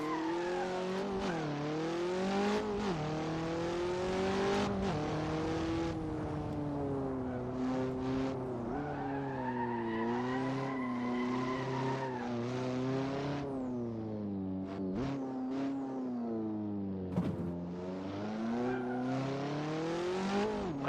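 A race car driven hard for grip around a gymkhana course in Assetto Corsa, its engine revving loudly and steadily with rising and falling pitch through shifts, alongside brief tyre squeal, with no talk.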